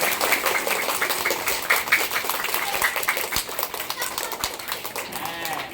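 Class one children in a general knowledge quiz competition burst into sustained, dense clapping to reward a correct answer, a steady crackling applause in the room with voices mixed in.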